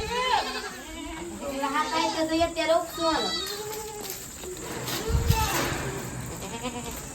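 Goats bleating at a farmyard shed around dusk, several loud nearby calls in quick succession mixed with someone talking over them and a light background hiss.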